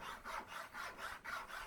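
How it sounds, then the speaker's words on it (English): Rhythmic rasping of a chainsaw file cutting grooves into laminated wood for a slingshot, about six steady back-and-forth strokes, close and even, with no talking. "now I'm gonna cut in the grooves, and I do this with a chainsaw file"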